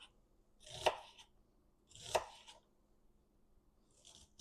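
Two crisp knife slices through an onion on a cutting board, about a second apart, followed by a fainter third cut, close and alone with no talking, while preparing onion gravy for pork chops.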